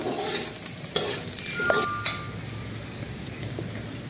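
Turmeric being stirred into a sizzling dish in a frying pan, with steady scraping strokes over a continuous frying hiss and a few light clinks of the utensil against the pan.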